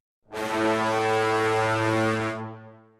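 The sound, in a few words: software brass staccato instrument, short notes then sustained note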